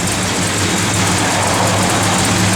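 A 1968 Plymouth GTX idles with a cam fitted, a steady, loud, deep engine rumble held close to the car without a break and with no voices.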